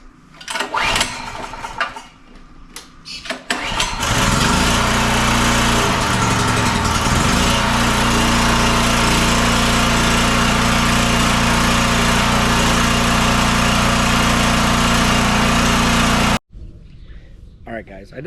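A Duro Star 4400 portable generator cranks with a few rough attempts, then catches and runs loud and steady at close range before cutting off abruptly, with a voice talking near the start.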